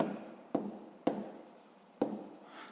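A pen scratching on paper while a fifth-grade maths exercise is worked out, with a few sharp stroke onsets each trailing into softer scribbling, close and clear.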